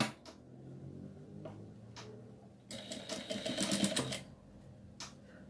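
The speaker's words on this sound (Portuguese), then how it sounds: "vou passar uma costura reta" A sewing machine runs a straight seam on fabric, joining a ruffle for a doll outfit, in a quick rattling burst of about a second between quiet handling clicks, close by.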